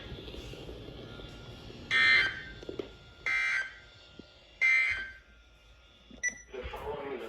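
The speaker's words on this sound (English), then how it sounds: "test of the new weather radio warning alarm system." A weather radio warning alarm sounds three separate loud, steady tone bursts, each lasting about a second, with quiet gaps and faint background noise between them.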